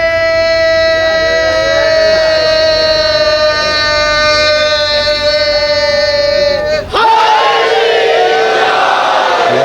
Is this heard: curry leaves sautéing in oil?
no